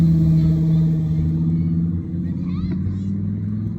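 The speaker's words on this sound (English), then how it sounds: "There's Lamborghini. That's my future car right there, Lambo." A Lamborghini engine rumbles as it goes past, a steady low drone that eases off slightly partway through, with no talk over it.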